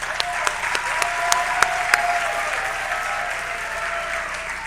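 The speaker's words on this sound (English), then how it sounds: "Clap it up for them, please." Audience applause at a fall sports awards ceremony, steady sustained clapping from a crowd filling the room, with no talk over it.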